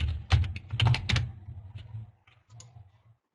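Quick burst of typing on a computer keyboard, a dense flurry of close key clicks that thins out into a few scattered, softer taps before stopping.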